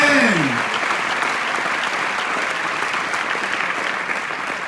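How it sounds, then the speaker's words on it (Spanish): A church congregation bursts into loud, sustained applause, dense clapping filling the room from start to finish, with a brief voice at the very beginning. "Un aplauso general a Cristo"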